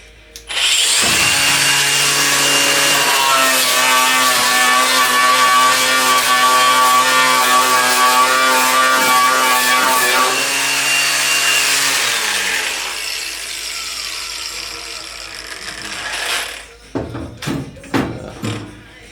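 A cordless grinder fitted with a stripping disc works on a car's lower radiator support, a loud continuous whine for about twelve seconds that winds down, followed by a few sharp scraping bursts.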